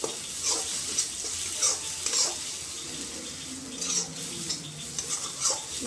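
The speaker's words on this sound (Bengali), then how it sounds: "ব্যাস হলুদ দিলাম আর লঙ্কা দিলাম, দিয়ে একটু মিশিয়ে নিচ্ছি, ভালো করে মিশিয়ে নিলাম।" Turmeric and chili fry in a pan while being stirred, a dense, steady sizzle with rhythmic scraping swells every second or so, close and loud, with no talking.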